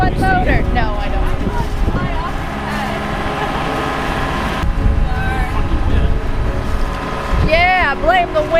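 Sailboat motor drones steadily in strong wind in the British Virgin Islands, loud and close with gusting wind noise over the microphone, while people on board talk.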